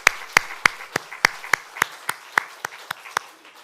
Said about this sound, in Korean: 다시 한번 우리 박수로 감사로 격려하겠습니다.